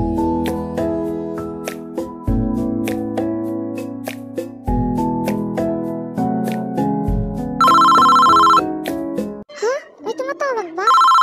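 A telephone ringtone warbles loudly near the end, following several seconds of a bright, plucked melodic tune.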